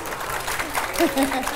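Applause and cheering from a debate audience, a busy crowd wash with a voice speaking over it near the end.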